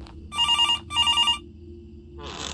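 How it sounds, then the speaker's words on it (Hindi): An old-style telephone bell in a horror video game rings in two short trilling bursts against a low background hum, loud and close, then a noisy rustle follows. "फोन बजता है?"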